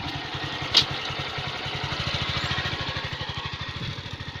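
A Honda MSX motorcycle ridden by a beginner idles close by with a steady, rapid, pulsing putter that swells slightly as the rider shifts into gear and pulls away, heard alone.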